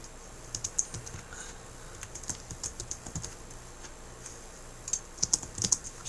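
Typing on a computer keyboard while writing VB6 code for SQL Server: irregular clusters of light clicky keystrokes, close but fairly quiet, with a brief pause before a final quick flurry of taps, no talk.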